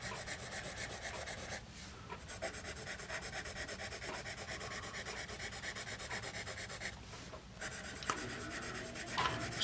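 A Paper Mate Mongol 480 #2 pencil scratches steadily across paper in close, continuous strokes with brief pauses between passes.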